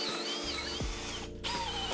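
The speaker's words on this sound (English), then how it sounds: "The Bosch with 55 Nm torque had just enough to keep going, although my auger bit did keep getting a little bit bunged up" A Bosch combi drill with 55 Nm torque drives an auger bit into a timber sleeper, a steady loud motor whine that labours and drops briefly as the bit clogs, then picks back up.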